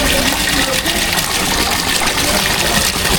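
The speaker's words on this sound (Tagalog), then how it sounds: "Uy, nga, flowing nga oh." Water flowing out from under the ground in Mindoro, a steady, loud, broadband gush and rush of liquid that stays even throughout with no talk over it.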